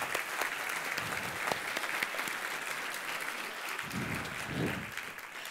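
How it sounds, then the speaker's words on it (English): Audience at an award ceremony applauds selection committee members, a steady dense clapping with a brief louder swell near the end. "Can you please stand up so everyone can give you an applause?"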